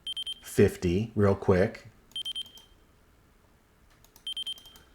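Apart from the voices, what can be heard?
Radiomaster TX16 RC transmitter audible warning beeps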